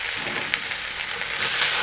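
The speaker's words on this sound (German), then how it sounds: "Und umrühren" Goulash of game meat with onions and a game spice blend sizzles in a Dutch oven while being stirred, a steady close hiss with a few soft scraping bumps, rising slightly toward the end.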